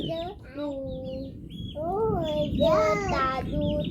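Chickens cluck close by, with several rising and falling calls in quick succession over a low background murmur.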